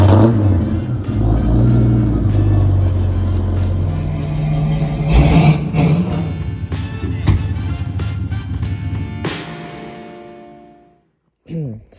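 An old GMC truck engine cranks and catches, then runs with a low, rough, rumbling idle and some revving before it cuts off.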